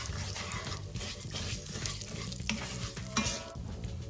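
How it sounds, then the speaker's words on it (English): Yellow peas with coriander and turmeric stirred in a pot, a soft, continuous scraping and shuffling with a faint sizzle and an occasional clink of the spoon, close but quiet, no speech. "stir well to coat, add in the coriander, the turmeric"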